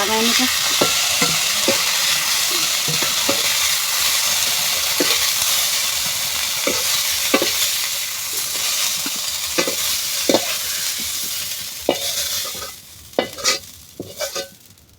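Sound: onions frying in oil, stirred

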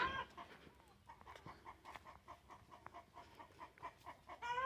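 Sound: chicks and chickens clucking

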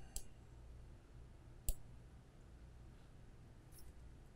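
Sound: computer mouse clicking

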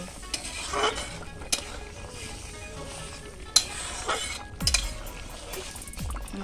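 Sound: stirring pangas fish curry with taro in pan

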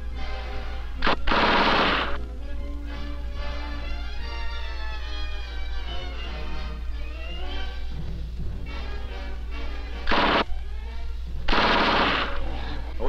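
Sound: Army automatic weapon firing, Vietnam 1969

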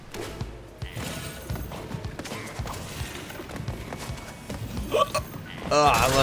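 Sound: hiccups in video game Crash Bandicoot 4

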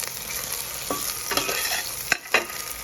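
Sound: sautéing onion, garlic and tomato in a pan

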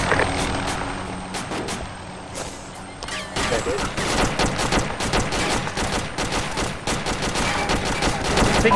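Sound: gunfire in a war video game

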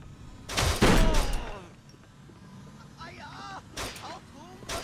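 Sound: gunfire from Kane and Lynch 2 video game

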